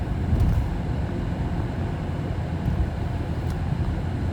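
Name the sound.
2015 Ford Edge exhaust note driving on highway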